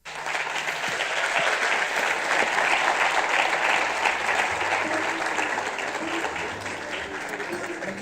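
Audience at an entrepreneurs' funding summit gives a sustained round of applause, broad and steady clapping that swells then tapers slightly, with faint voices or tones underneath.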